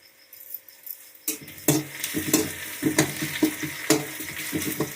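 Onions frying and being stirred in a pan: a quiet start, then the sizzle rises and rhythmic spatula scrapes repeat against the pan, close and clear with no voices.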